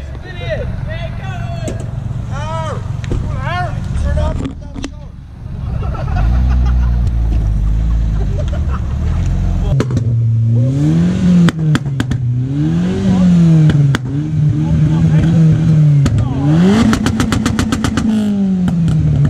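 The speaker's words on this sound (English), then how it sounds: "Now we've got another car turn up, but we've got a Porsche Cayman." A Porsche Cayman pulls into a busy car meet. The engine revs rise and fall loudly near the listener, with rising pitch sweeps toward the end, under and between people talking.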